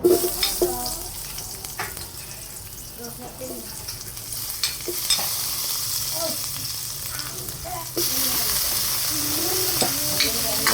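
Squid frying in a hot pan with onion, a steady broadband sizzle that swells louder near the end, with occasional stirring clatter and faint background voices.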